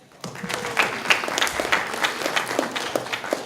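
At a university Indonesian cultural event, an audience breaks into applause for batik, starting after a short quiet and building into a lively patter of many clapping hands with some sharper individual claps standing out.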